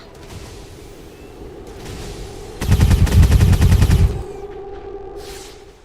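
A rapid burst of automatic gunfire in the XCOM 2 video game, about a second and a half of loud, close, evenly spaced shots rising out of a low ambient hum.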